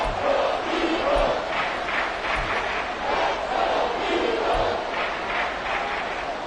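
Video game football stadium crowd roaring on its feet before a third-and-seven play, a steady dense wall of cheering and chanting with a few low thumps underneath, loud and continuous throughout.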